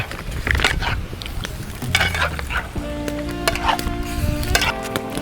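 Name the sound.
stirring food while cooking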